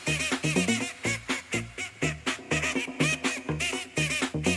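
Honking duck-like quacks chopped into a music remix, repeating rhythmically over a loud beat with bass and percussion, dense and continuous throughout.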